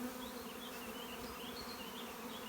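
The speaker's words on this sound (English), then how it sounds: "Just boxes of bees here" A dense, steady hum of many honeybees buzzing around hives fills the air, with no pauses and no voices.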